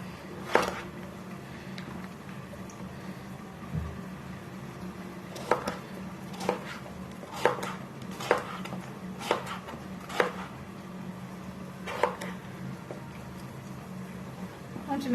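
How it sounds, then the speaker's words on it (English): Produce with its seeds and peel left on, sliced into cubes on a board: sharp, isolated knife chops land every second or two, some in quick pairs, over a faint low background hum. "You're just going to slice them into cubes."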